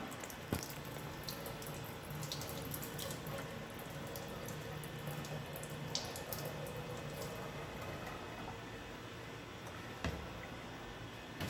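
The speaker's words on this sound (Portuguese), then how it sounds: "abrindo a água." A lab water tap runs steadily, used to rinse a heat-treated steel worm screw sample during macrographic etching; a faint continuous hiss of flowing water with a few soft knocks and ticks, no talking.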